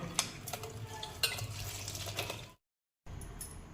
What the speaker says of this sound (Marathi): आपल्याला यातील पाणी काढून घ्यायचं आहे दाबून दाबून यातील पाणी आपल्याला काढून घ्यायचं आहे